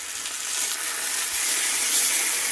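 Turkey rashers fry in oil in a pan, giving a steady, close, dense sizzle with no let-up and no voices.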